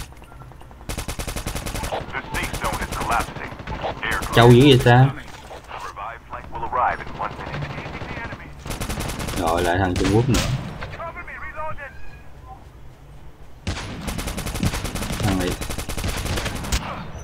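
Repeated bursts of gunfire in the Call of Duty Mobile battle royale, including a thermal-scope rifle, with loud rapid volleys and a few heavier blasts scattered through, under near-constant excited talk from players.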